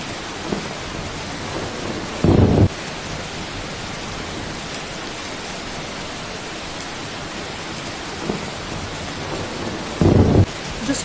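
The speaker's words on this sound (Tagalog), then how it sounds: "yan yata ang bagyong sinasabi sa balita" A thunderstorm with heavy rain during a typhoon hiss steadily, broken by two loud, short cracks of thunder a few seconds into the storm and again near the end.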